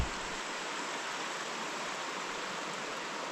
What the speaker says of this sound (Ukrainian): Шум річки.